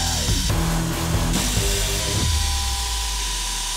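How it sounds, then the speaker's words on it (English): Sanding machine deburring and smoothing the faces of flanges cut from 3/8-inch steel plate for a replica mace, a loud steady abrasive whine that shifts pitch as the workpiece is pressed and moved against it. "uses the Bader sanders to deburr and smooth the surfaces on these flanges"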